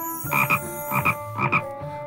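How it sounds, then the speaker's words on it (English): A frog croaks loudly and close by in three evenly spaced double croaks, each a throaty, rasping pulse over a steady tonal hum. "I hope Malice didn't put any kiddie Zooza frogs in there."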